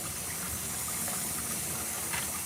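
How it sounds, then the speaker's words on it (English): Filtered water pours steadily into a homemade wine mixture in a continuous gushing, splashing stream with no voices. "I'm going to add some more water."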